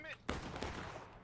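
Gunfire in the War of Brothers video game, a few sharp shots in quick succession over a noisy battle background, with a player speaking.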